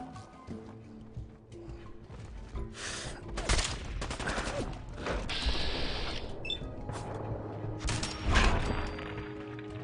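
Gunfire in Fallout 4 during a survival-mode hunt, with several sharp bursts and rattling volleys spread through a busy mix of other game sounds, moderately loud and without speech.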